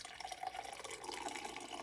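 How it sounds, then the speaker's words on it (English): Cold brew coffee pours from a Bodum pour-over coffee maker into a cup in a soft, steady, faint trickle of liquid with no talking. "and then just pour"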